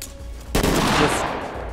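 Gunfire in the tactical shooter game Ready Or Not: after a brief quiet moment, a loud, dense burst of rapid automatic shots erupts and rings out for about a second before tailing off.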